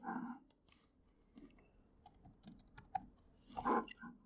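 An SSH command is typed on a computer keyboard, a quick, light patter of close key clicks in an uneven run, quiet and not under any talk.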